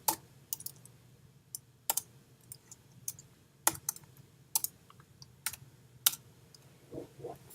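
Code being typed on a computer keyboard in bursts of quick, light key clicks with short pauses between, close and fairly quiet, with no talking.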